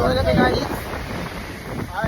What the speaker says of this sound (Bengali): দেখো পূর্ণিমায় একদম জোয়ারে বড় বড় ঢেউ।